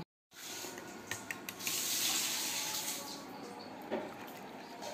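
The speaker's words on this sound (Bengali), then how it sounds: "আমি সবগুলো দুধ পুডিংয়ের ভিতরে ঢেলে দিয়েছি" Cooled milk pours in a steady, continuous stream into a watermelon pudding, starting abruptly after a short silence and running unbroken with a soft splashing hiss close by.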